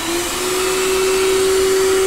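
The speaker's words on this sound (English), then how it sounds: "So now the real world test. Vacuum." A vacuum cleaner powered by a sailboat's onboard electrical system runs with a steady, loud broadband whoosh and a constant motor whine, close and uninterrupted, with no talking.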